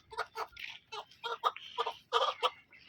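A country hen clucking close by in a run of short, sharp, irregular clucks and squawks, clear and fairly loud with little else around.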